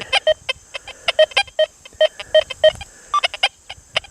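A Deus 2 metal detector in pitch tone mode, audio response 5, gives rapid electronic beeps and chirps pulsing in an uneven rhythm, bright and close, with faint handling noise beneath.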